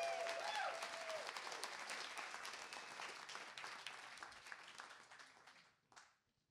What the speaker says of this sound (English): Everyone, round of applause for Sandy in the front row.